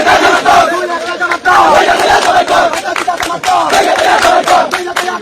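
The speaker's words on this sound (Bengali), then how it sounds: "স্লোগান দিতেছে বিএনপি" BNP supporters in Bangladesh chant slogans as a loud, massed crowd of voices shouting in a rhythmic call-and-response, with surging phrases and brief dips between them.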